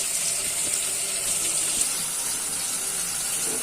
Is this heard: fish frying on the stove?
yes